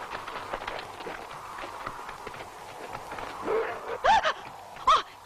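Dogs bark in a deserted, eerie spot at night, a few distant yelps rising toward the end over a low murky background.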